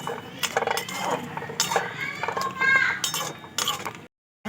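A spatula scraping and clinking in a pan as sugary pineapple chutney is stirred, with repeated metallic clinks and scrapes close by over steady kitchen noise, ending abruptly in silence.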